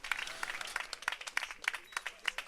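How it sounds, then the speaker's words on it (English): Scattered clapping from a small crowd at a high school baseball game, Lakeside versus Bainbridge, with distinct individual claps spaced irregularly, fairly faint and distant, with a voice speaking over it. "Both teams get a round of applause here for their play today"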